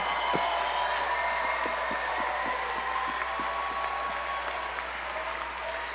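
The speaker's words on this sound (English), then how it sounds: "please make some noise for U.S. Air Force's Staff Sergeant Eamon O'Connell." A crowd at a Veterans Day weekend Cage Titans 62 amateur MMA event applauds steadily for a U.S. Air Force staff sergeant, a dense, sustained roar of clapping and cheering with no talk over it.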